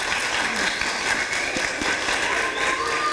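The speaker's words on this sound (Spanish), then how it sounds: "Un aplauso para él." A room audience applauds a visiting author, a steady continuous wash of clapping throughout, fairly loud and close, with some murmur mixed in.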